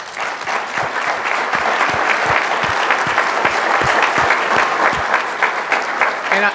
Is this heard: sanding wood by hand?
no